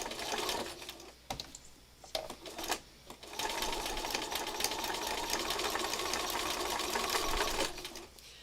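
Sewing machine stitching curvy lines across scrap patches, starting and stopping in short bursts before settling into a long, even run of close mechanical whirring.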